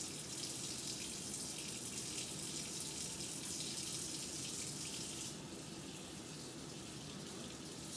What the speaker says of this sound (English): rinse each hand from wrist down to fingertips